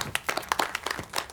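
A short burst of applause with several people clapping in quick, uneven rhythm at moderate distance, lasting just over a second with no talk over it.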